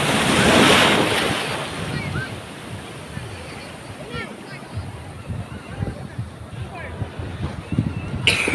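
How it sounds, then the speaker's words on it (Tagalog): Ocean waves wash and break nearby under gusty wind noise at a beach near Dagupan, Philippines, with scattered voices and shouts from people on the shore. "Nagpak na yung alon."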